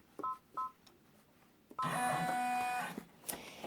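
Machine embroidery stitching around almost the entire edge of an in-the-hoop zipper bag, starting with a few short whirring bursts and then settling into a sustained rapid mechanical buzz of the needle that stops near the end.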